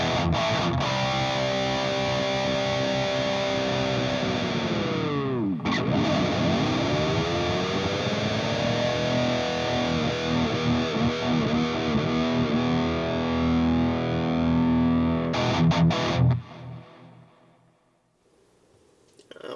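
A distorted electric guitar lead on an LTD MH-350FR with EMG 81/85 pickups and Floyd Rose Special, played through room, reverb and digital delay effects, loud sustained notes with bends and dives, then fading out.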